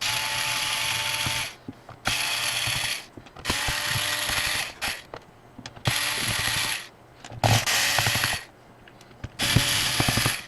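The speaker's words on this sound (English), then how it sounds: "take these screws out of here" A cordless driver whirs in repeated bursts while removing screws from a drink-damaged laptop, about six spins of a second or so each, separated by brief pauses with small handling clicks, close and fairly loud.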